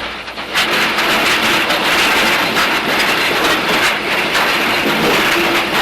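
A goods train rolls along the rails in a steady, loud rumble with broadband clatter throughout, no voices over it.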